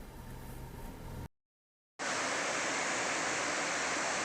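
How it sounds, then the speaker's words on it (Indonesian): Salodik waterfall in Sulawesi roars as a dense, steady rush of falling water, loud and close, briefly cut by a gap of silence before the torrent resumes. "Air terjun"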